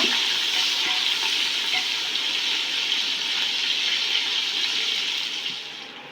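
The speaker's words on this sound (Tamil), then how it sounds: "வெங்காயம் சேர்த்துக்குவோம் வெங்காயம் நல்லா பொன்னிறமாக வர வதங்கட்டும்" Onions frying in a pan for mutton biryani, browning in hot oil with a steady, even sizzle that holds for several seconds before easing off at the end, with no talking.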